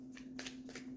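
A deck of tarot cards is shuffled in a few quick riffling bursts, close and soft, over a steady low hum.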